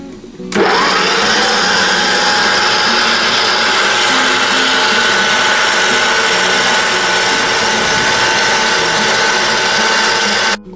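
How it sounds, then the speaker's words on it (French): An electric mixer whirs loudly and steadily, beating five eggs with 150 g of sugar for a sponge cake batter, starting abruptly and running continuously at an even high-pitched drone. "Et maintenant je vais venir battre dans le batteur électrique"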